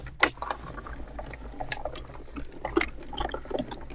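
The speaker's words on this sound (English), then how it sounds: "I am going to run these through my die cut machine." A die cut machine cranks layered stencils through its rollers, a soft continuous grinding and ratcheting of gears with a few sharper clicks, faint and close by.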